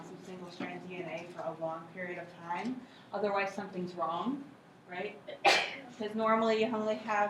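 A sneeze bursts from the audience in a lecture hall about midway through, sharp and brief, while the lecturer talks steadily around it.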